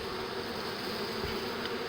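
A swarm of honeybees drones in a steady, dense buzz that holds close and even throughout, with no voices over it.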